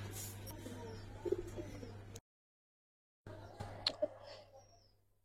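Silver khaki pigeons coo softly and intermittently against low background hum, with a short stretch of silence in between.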